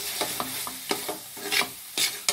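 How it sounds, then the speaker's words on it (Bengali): A spoon stirs spiced vegetable filling in a pan, roasted cumin powder just added and the stove switched off, giving a series of distinct scraping strokes in an irregular rhythm with a faint sizzle between them. "নেড়ে নিচ্ছি।"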